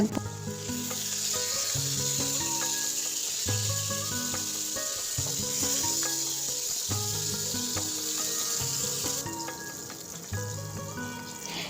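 A loud, steady sizzle of pointed gourd frying in a pan, with occasional stirring scrapes and a tonal hum running underneath throughout.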